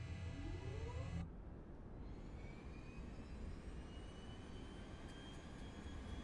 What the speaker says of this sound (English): Right engine is starting up.